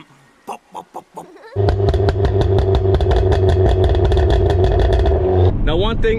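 A 300WHP Tomei-turbocharged Hyundai Genesis Coupe with an IRP shifter drones loudly from the cabin, its exhaust crackling with rapid, regular pops. A voice first mimics the popping in a few short bursts.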